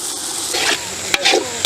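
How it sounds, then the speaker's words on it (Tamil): Curry leaves and coriander drop into a hot pan already holding turmeric, ground chili paste and curry masala for a village-style mutton head gravy, giving short bursts of sizzling and scraping stirs close by. "கருவேப்பிலை கொத்தமல்லி போடுறோம்."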